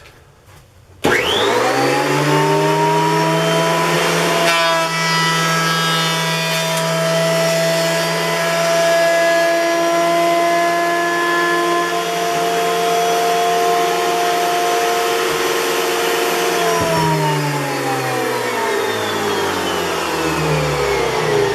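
A planer smoothing Douglas fir boards starts abruptly and runs as a loud, steady, whining motor roar near the listener for about sixteen seconds, then dips as the board passes through. No one talks.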